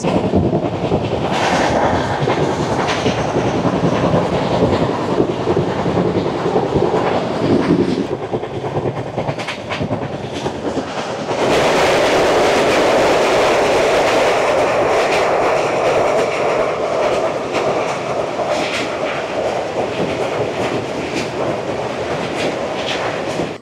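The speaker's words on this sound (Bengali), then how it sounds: "আমাদের ট্রেন ছেড়ে দিল বলঙ্গীর জংশন।" The Samaleswari Express rolls on after leaving Bolangir Junction: a loud, continuous rumble of rail cars with rhythmic clickety-clack of wheels over track joints. It shifts in tone midway, heard from on board, with no speech.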